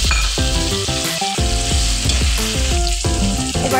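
Chopped tomatoes hitting hot oil in a pan with crushed green chilli and garlic, a loud steady sizzle close up, with background music playing throughout and no voices.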